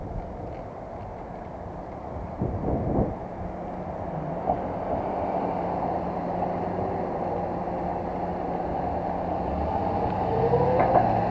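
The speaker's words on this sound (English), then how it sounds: "the cops just passed by me" A police car passes close by amid a steady, low road rumble heard from inside a moving vehicle, with a faint rising tone near the end and no talking.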